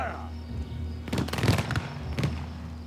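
A volley of gunshots in Shadow Tactics: Blades of the Shogun, a cluster of sharp overlapping cracks and booms over about a second, followed by a second burst, loud against a low background hum with a commanding voice.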